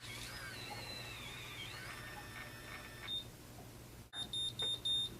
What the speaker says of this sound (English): that's the warning beep